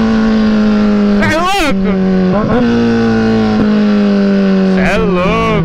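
Kawasaki Z1000 motorcycle engine idling with a steady low drone, then revving hard in two sharp swells close by, with a short spoken exclamation over it.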